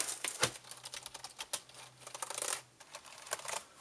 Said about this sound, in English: I think it's going to feel good typing on it